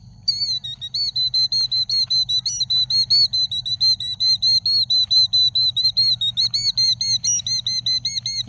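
A killdeer guarding its nest in the middle of a road calls continuously: loud, close, shrill repeated whistling notes in a rapid rhythm for the whole stretch, over a low steady hum of background noise.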